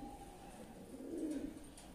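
Domestic breeder pigeons of a dub-type line kept in Kasur give soft, low cooing that swells near the middle of a two-second stretch, steady and moderately close with no talking over it.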